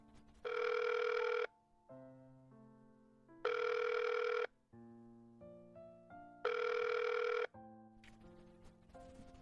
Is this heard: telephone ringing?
yes